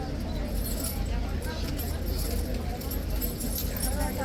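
A ceremonial horse at Horse Guards in London stands amid a busy crowd, with faint hoof shuffles and jingling tack under steady crowd chatter and street noise.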